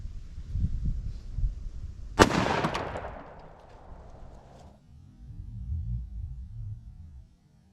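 A single sharp 10mm shot from a Glock 29 pistol fired into ballistic chicken gel, a loud crack followed by a ringing decay lasting a couple of seconds, with low rumbling handling noise before and after.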